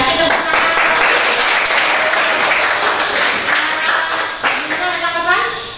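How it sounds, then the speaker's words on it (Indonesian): Dense applause from a classroom audience fills the whole stretch at a steady, loud level, with some voices mixed in and the clapping thinning slightly near the end. "Oke, kasih tepuk tangan."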